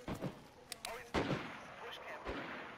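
Several sharp gunshots from a Tac Warfare firefight, including fire coming through a wall, crack out in uneven bursts over a busy, noisy game background.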